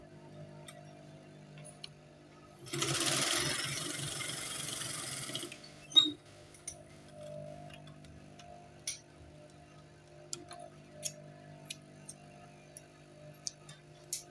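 A sewing machine stitches trouser fabric in one loud burst of a few seconds, followed by scattered soft ticks and clicks in a quiet room.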